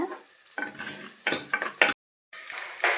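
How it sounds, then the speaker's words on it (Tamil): Onions and chilies sautéing in a pan, with steady sizzling broken by several bursts of spatula scraping and metal clatter against the pan, close and loud, then a brief silent gap before the sizzle returns. "இப்போது வெங்காயமும் மிளகாயும் நல்லா வதங்கிட்டு இருக்கும்போது பூண்டு ஒரு 4 பல் சேர்த்துக்கலாங்க"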